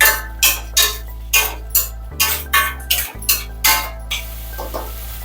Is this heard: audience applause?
no